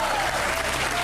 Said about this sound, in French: on applaudit très fort notre journaliste Arnaud Mugler.